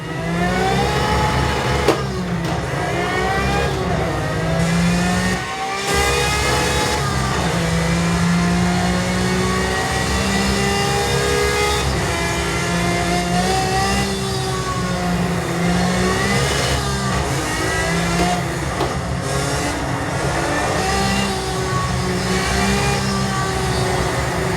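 A Pagani Zonda engine in a console racing game revs continuously, loud and close, its pitch climbing and dropping through repeated shifts of acceleration with no voices over it.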